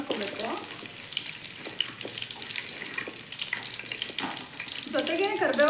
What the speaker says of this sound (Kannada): ಬೆಳ್ಳುಳ್ಳಿ ಸ್ವಲ್ಪ ಫ್ರೈ ಮಾಡ್ಕೋಬೇಕು